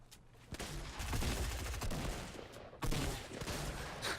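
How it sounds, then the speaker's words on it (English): Shotgun gunfire from a fight in the video game Fortnite, a dense burst of loud, overlapping shots with a second volley starting near the three-second mark. "it just turns into a jumping shotgun fight"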